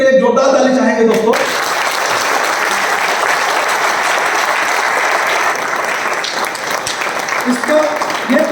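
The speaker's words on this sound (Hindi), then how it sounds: "तो हमारा अभी टीम हिस्ट्री मेकर के लिए जोरदार ताली चाहेंगे दोस्तों।" Loud, dense applause from a large audience at a motivational seminar in Ranchi, a sustained wall of clapping that follows a brief stretch of someone speaking and runs on for several seconds, with voices rising faintly near the end.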